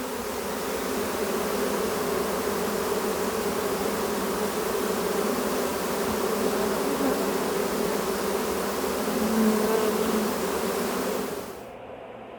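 A swarm of honey bees flying around a hive box outdoors makes a dense, continuous buzz close by, holding steady for several seconds before cutting off abruptly near the end.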